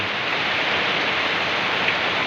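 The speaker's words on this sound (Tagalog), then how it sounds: "bumubuhos ng napakalakas na ulan" Heavy rain pours down in Baybay, Leyte, in a constant, loud wash of hissing noise that never lets up.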